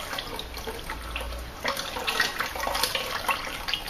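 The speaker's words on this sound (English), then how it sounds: "Tip it forward, we get all the nice golden oil we want with all the bits sticking in the bottom." Golden waste oil pours steadily from a tipped container, a continuous liquid splash and trickle that grows slightly louder midway, close and alone with no talk.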